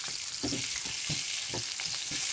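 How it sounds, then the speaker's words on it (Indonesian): Sausages pan-frying in melted margarine in a Teflon pan, a steady close sizzle with soft rhythmic scraping and stirring bursts roughly every half second. "Lalu kita pan fry dulu sosisnya"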